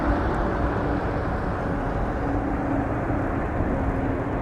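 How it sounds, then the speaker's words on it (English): A British Airways Boeing 777-200ER airliner gives off a steady, broad jet engine roar and rumble at a Toronto Pearson airport, heard at a constant distance with no talking. "777-200 ER to London Heathrow, British 92, Speedbird"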